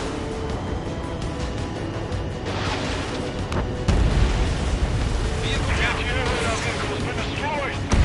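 Heavy booming explosions roll out as a target is destroyed in the jet combat game Ace Squadron, a sudden loud blast rising over ongoing battle noise and radio chatter.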